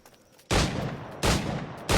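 Flintlock-era firearm shots in Assassin's Creed Black Flag, with three loud, sharp gunshots at close range, each one followed by a short decaying rumble and no talking.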